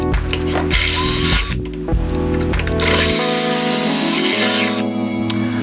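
A power drill fitted with a paddle bit bores into the end of a piece of wood for a whistle, running loud and close with pitch shifts and brief pauses as the bit bites and frees, with no talking.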